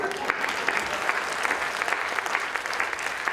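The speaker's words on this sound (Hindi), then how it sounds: "मैं जरा संकुची आदमी आपको तालियों के लिए कहता हूँ" Audience applause at a Hindi poetry gathering, the Ghangha Basant Sammelan, heard as sustained crowd clapping with scattered sharper claps standing out, fairly loud and unbroken.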